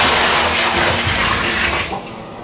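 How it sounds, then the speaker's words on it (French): Hot water gushing steadily into a hotel bathtub in Vietnam, a loud close rushing pour that eases slightly near the end. "Ou pour mettre de l'eau chaude dans mon bain?"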